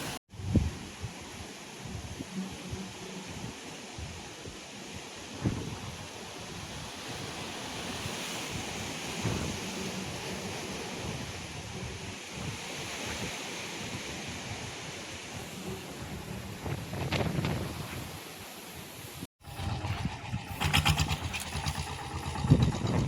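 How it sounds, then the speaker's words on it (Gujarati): Strong midday wind gusting across open farmland roars in steady surging rushes, with buffeting against the microphone and a harsher burst of gusts near the end. "અત્યારે મિત્રો વાગ્યા છે બપોરના 12 ને અચાનક જોરદાર પવન ઉપડી છે."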